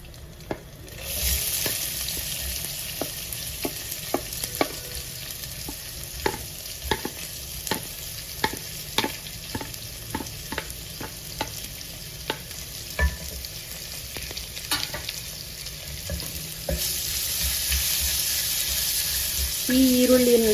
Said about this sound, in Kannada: ಈ ಈರುಳ್ಳಿನಲ್ಲಿರುವಂತಹ ಹಸಿ ಅಂಶ ಹೋಗೋವರೆಗೆ ಇದನ್ನ ಚೆನ್ನಾಗಿ ಫ್ರೈ ಮಾಡ್ಕೊಳ್ಳೋಣ